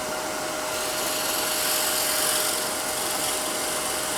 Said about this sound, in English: So this is just a drill.